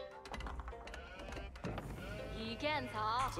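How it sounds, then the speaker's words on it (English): Sheep bleat in the strategy game Age of Empires IV, several wavering cries rising over steady game ambience and clicks in the second half of the moment. "let's see if we can find some sheep"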